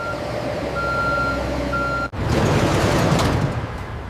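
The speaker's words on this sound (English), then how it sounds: "Delivery trucks arrive at grocery stores across the country, right on schedule." Delivery truck arriving at a grocery store, its reversing alarm beeping in a steady repeated pattern, then the engine noise swells loudly after a brief cut.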